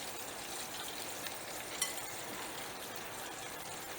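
Cornstarch-battered chicken wings frying in oil, a steady, fairly faint hiss and crackle of sizzling that stays even throughout with no voices.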